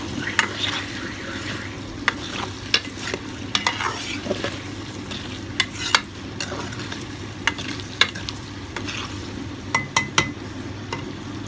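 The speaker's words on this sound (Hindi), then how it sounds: "तकरीबन 3-4 मिनट तक हम इनको फ्राई करेंगे, शैलो फ्राई।" Potatoes sizzle steadily as they shallow-fry in a pan of oil, with a spatula repeatedly scraping and clinking against the pan at irregular intervals.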